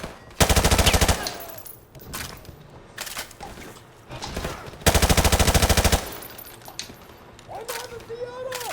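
AK-74U automatic fire in Call of Duty 4, two loud sustained bursts of rapid rounds close up, with game sounds and someone talking in the quieter gaps.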